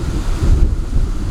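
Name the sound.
wind blowing outdoors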